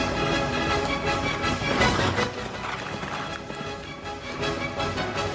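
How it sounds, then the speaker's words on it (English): Hoofbeats of a galloping horse pound in a fast, steady rhythm, loud and continuous throughout, in an old Lone Ranger radio drama. "From out of the past come the thundering hoofbeats of the great horse Silver."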